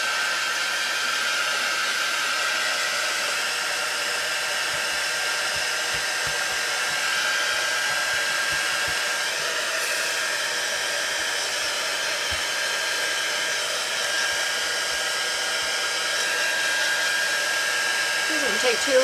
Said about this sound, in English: But here we go. We're going to dry this up.